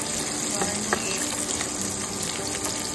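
Garlic fries with a continuous, dense hiss and sizzle in hot oil while being stirred, with occasional clicks from the utensil, as the first step in cooking dinuguan.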